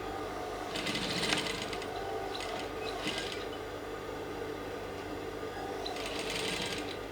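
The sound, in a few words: sewing machine stitching garment pleats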